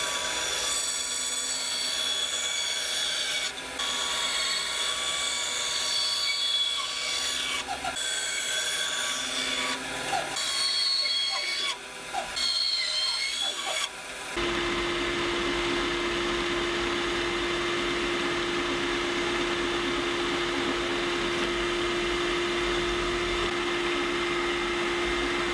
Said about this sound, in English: Now I'll just cut the corners off on the bandsaw.